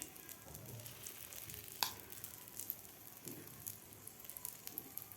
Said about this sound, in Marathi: तर हे सुद्धा आपल्याला व्यवस्थित दोन्ही साईडकडून भाजून घ्यायचे आहेत ब्रेड